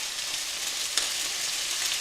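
Pork browning in one of two hot pans, a steady bright sizzle and crackle of frying fat with one sharp pop partway through, close and without voices.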